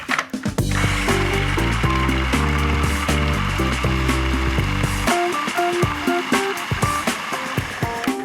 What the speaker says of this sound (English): So seeds and everything, we're going to pop that straight into the food processor. I'm going to blend this till it's a smooth paste.